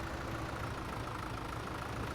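Tractor engine idling in Farming Simulator 17, a steady close low rumble with even, unchanging loudness and no talk over it.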